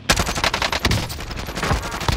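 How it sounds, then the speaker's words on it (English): Rapid automatic gunfire in the Warzone video game, a dense run of loud, closely spaced shots that continues steadily for a couple of seconds with no talking. "Keep shooting."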